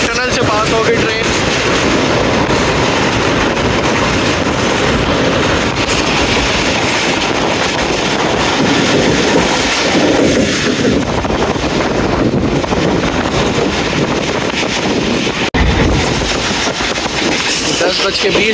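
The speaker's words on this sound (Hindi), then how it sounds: "कोरंग टनल से पास हो गई ट्रेन।" Jaffar Express passenger train running after the Korang tunnel, a continuous loud rumble and rattle with wind buffeting, recorded on board, with speech over it.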